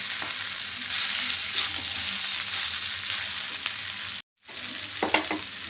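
Potato and bitter gourd pieces fry in a pan, giving a steady, close hiss with occasional stirring scrapes and a short break in the sound near the end. No one speaks.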